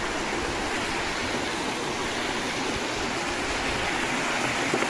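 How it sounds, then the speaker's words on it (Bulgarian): A small waterfall near the village of Novachevo gives off a constant, even rush of falling water that fills the scene without a break. "Ето го и водопадчето."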